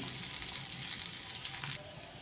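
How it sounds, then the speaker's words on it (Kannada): Cumin, curry leaves, green chillies and onion fry in a pan with a steady, close, bright sizzle that drops noticeably quieter near the end, with no talking. "3-4 ಹಸಿಮೆಣ್ಸಿನ್ಕಾಯಿ ನೀಟಾಗಿ ಫ್ರೈ ಆದಮೇಲೆ ಒಂದು ಈರುಳ್ಳಿ ಹಾಕ್ಕೊತಾ ಇದ್ದೀನಿ"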